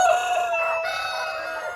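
A rooster crows in a pen inside a chicken coop, one loud, close, drawn-out call that starts strong and tapers off.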